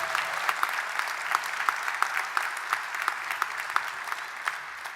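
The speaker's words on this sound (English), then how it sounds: "Let's have a round of applause for Bria Kelly." An audience at an honour evening applauds the national anthem singer, a full, steady round of clapping with scattered sharper individual claps popping out above the crowd.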